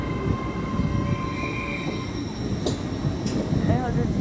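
Class 800 trains arriving and departing at Newport station in South Wales: a steady rumble of rolling stock with faint wheel squeal and two brief bright screeches, continuous and fairly near, with faint voices in the background.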